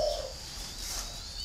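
A caged spotted dove gives one short, low coo right at the start, then only a steady faint hiss follows with no further calls.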